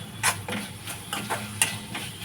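Tomato and ginger-garlic paste sautéing in a pan, heard as a quiet, steady sizzle with a quick series of spoon scrapes and taps against the metal.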